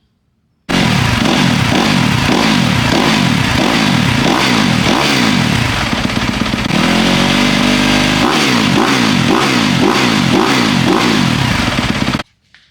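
A 2024-or-later Yamaha YZ250F dirt bike fitted with a Williams Motowerx airbox is revved hard and close, its engine rising and falling in rapid repeated blips with a brief sustained high rev midway.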